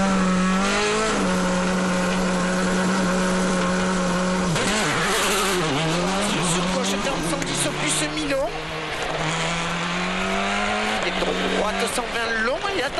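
A rally car races at high speed on a tarmac stage of the Tour de Corse in France, its engine loud and revving, with gear changes, pitch swoops and tyre noise as it passes close, under a commentator's voice.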